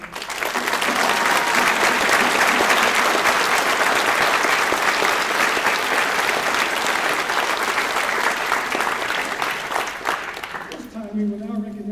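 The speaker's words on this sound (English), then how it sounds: "Can we please have applause for y'all?" A crowd at a state corrections department employee recognition ceremony applauds district honorees. The clapping is loud and sustained for about eleven seconds with scattered voices mixed in, then stops as a tone sounds.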